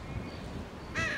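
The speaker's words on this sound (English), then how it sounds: "here is a better view of the crow" A crow caws in the video game GTA V, one short harsh call near the end after a stretch of low ambient background.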